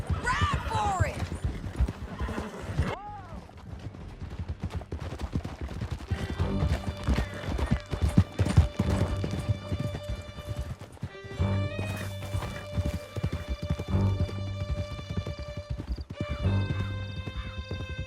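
Horses gallop with rapid clip-clopping hooves in Red Dead Redemption 2, with neighs and whinnies over a music score, and a voice shouts at one point.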